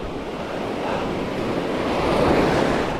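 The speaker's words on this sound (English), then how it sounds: "especially right here when the waves come and crash" Ocean surf crashes steadily on a California beach during surf fishing, a dense, continuous roar of breaking waves that swells slightly louder toward the end, with some wind buffeting and no voices.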